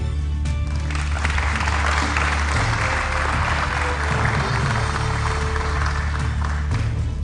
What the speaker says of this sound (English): we request the audience to applaud and welcome candidates to the stage